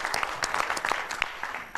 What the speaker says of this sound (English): Everybody give Kevin a nice round of applause.